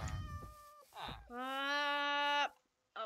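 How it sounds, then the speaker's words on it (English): A cartoonish cat meows in the Minecraft video game, giving a short cry, then a long, loud, drawn-out meow that cuts off sharply, with game sounds around it. "This little cat stuck on my drawer."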